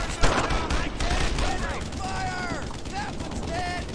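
Gunfire in the World War II shooter Brothers in Arms: Earned in Blood, with sharp rifle shots and bursts, a loud crack near the start, under shouted voices and battle noise.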